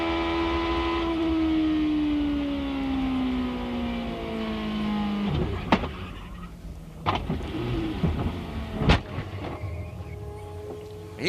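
IndyCar racing car engine heard onboard at Phoenix, a high whine falling steadily in pitch as the car slows, then sharp transient clunks and bursts of mechanical noise, with no talk.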